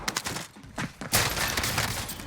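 Gunfire in the shooter game Call of Duty Warzone, on the Alcatraz map in shotgun-focused play: a quick run of sharp close shots, then a dense, loud roar of sustained fire.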